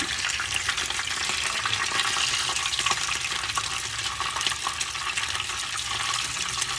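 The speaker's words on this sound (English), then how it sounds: "So I'm going to fry these, roll them around a little bit till they're golden" Taquitos frying in hot oil give a loud, dense crackling sizzle that runs without a break, peppered with tiny pops and the occasional shift as they are rolled in the pan.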